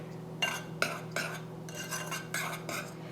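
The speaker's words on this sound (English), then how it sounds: "Give them a little stir so they get mixed up a little bit." A utensil stirs dry donut ingredients with nutmeg in a bowl, making about seven quick scraping, clinking strokes in an uneven rhythm, close and quiet over a low background hum, with no talking.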